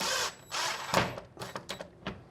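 A power driver whirs a screw in short bursts as a patio bolt is fixed to timber at a pencil mark, with close, loud mechanical grinding that stops and starts.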